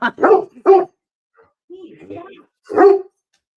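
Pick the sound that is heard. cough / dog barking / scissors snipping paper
dog barking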